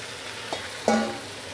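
Spinach stir-fried in oil with fried garlic, a steady close sizzle broken by a couple of clanking tosses against the pan.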